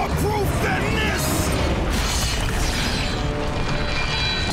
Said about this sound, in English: That CGI has the explosion